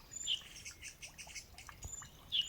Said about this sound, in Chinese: 清晨在阳光和鸟鸣中拉开了序幕